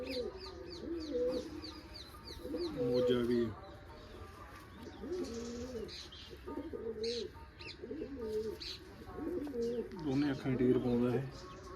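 Repeated low pigeon coos in bursts across the clip, with faint chirps from other birds higher up and a steady background murmur.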